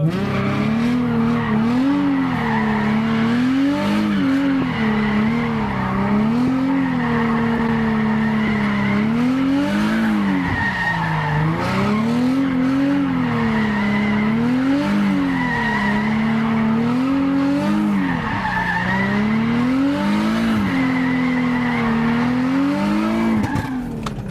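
A drift car skids continuously with loud, wavering tire squeal rising and falling in repeated swells over a steady engine roar, close and sustained throughout.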